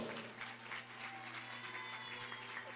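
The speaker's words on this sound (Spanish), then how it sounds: "vamos a brindarle un fuerte aplauso a la Santísima Virgen del Rosario. Que se escuchen los aplausos" Steady applause from a crowd at a marimba orchestra performance, many hands clapping together at an even level throughout, heard at some distance in a reverberant space.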